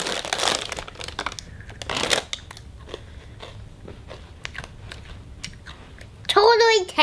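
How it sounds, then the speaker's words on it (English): Crisp crunching of Cheez-It cheese pizza crackers being chewed close up, with a few voices talking briefly at the start and a short vocal sound near the end. "Be quiet so we can hear him crunch."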